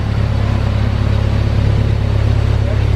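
A supercharged Honda S2000 with a new header, built by Kraftwerks, runs loud on a dyno with a steady, deep droning engine note and no clear change in pitch.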